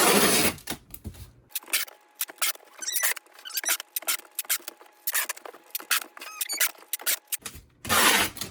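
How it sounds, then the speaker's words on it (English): Packing tape is pulled and wrapped around a boxed guitar controller, a close series of sharp, crackly tearing and squealing bursts in an irregular rhythm, with louder peel sounds at the start and end. "so that we can start taping around it"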